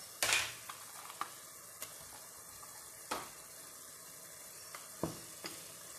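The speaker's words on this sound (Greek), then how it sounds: "Σβήνουμε με λίγο κόκκινο κρασί." Minced meat in a pan gives a sharp burst of sizzling as red wine is poured in, then settles to quiet crackling with a few light stirring clinks and soft spits.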